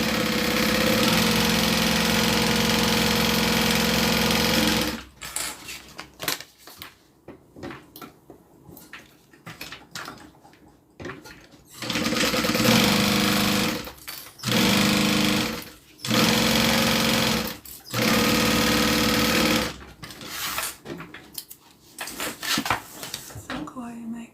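Sewing machine stitching the bottom band onto a zippered bag: loud steady mechanical whirring in several long runs, broken by pauses with handling noises and quiet speech between bursts.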